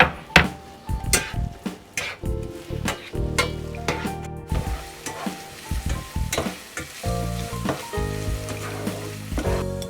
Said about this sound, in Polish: Cebula się smaży